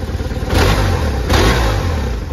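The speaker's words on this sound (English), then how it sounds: "Boxer twin engine runs very smooth." A 2000 BMW R1100RT-P police motorcycle with a 1080cc boxer twin engine revs up twice in quick succession, each throttle blip swelling over a steady close-up idle, with no talk.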